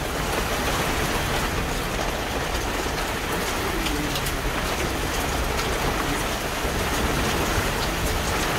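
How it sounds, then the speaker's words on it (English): Constant rainfall during a stormy spell in Switzerland pattering and hissing nearby, steady throughout with no pauses, and faint outdoor sounds in the background. "making a video of the bad weather from Switzerland. Lots of lightning, rain, and lots of wind and thunder."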